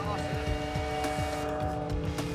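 BTCC touring cars on Goodyear tyres pull away together on a green flag lap, a steady loud engine drone with rising revs that fills the whole moment, with commentary talking over it.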